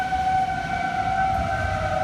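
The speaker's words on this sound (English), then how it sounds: "you can hear the tornado sirens sounding" Tornado warning sirens wail across Dallas in a steady, sustained tone with two strong harmonic lines, distant and outdoors over a low rumble of wind and background noise, with no talking.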